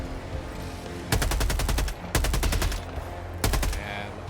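Rapid bursts of automatic fire in the co-op shooter Helldivers, three loud close volleys of quick shots separated by short pauses, with a recoilless rifle in play and no talking.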